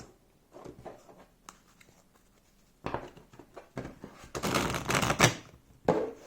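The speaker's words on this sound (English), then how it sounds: "let's see how it shuffles" Tarot cards are riffled and shuffled close up in quick papery bursts, building to a dense flurry of flicking near the end.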